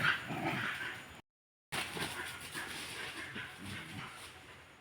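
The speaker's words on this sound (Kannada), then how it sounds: "ಎರಡು ಡಿಫ್ರೆಂಟ್ ಟೈಪ್ ಆಫ್ ನಾಯಿಗಳು" Two different kinds of dogs barking, yipping and whimpering close by, with a short gap of silence partway through and steady outdoor background noise.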